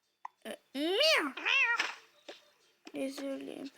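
A voice imitates a cat, giving several drawn-out meows in a row, close and fairly clear, separated by short silences.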